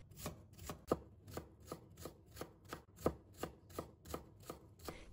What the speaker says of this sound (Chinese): 最后切小丁。